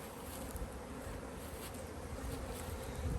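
Dense, steady drone of honey bees buzzing inside an open hive being split during swarm season, a close, continuous hum with no voices.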